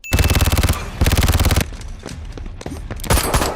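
Sustained bursts of rapid machine gun fire from a film action scene, loud and close, two long rattling volleys followed by scattered shots and a final burst.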